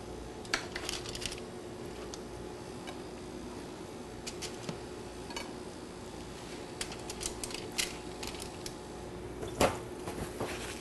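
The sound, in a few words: squash slices being placed on a pan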